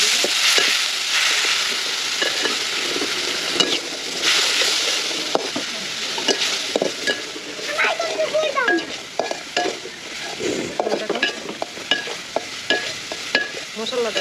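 Spice masala with coriander and chilli powder sautéing in a pan: close, busy sizzling with frequent scraping and stirring clatter from a utensil. There are irregular crackles throughout.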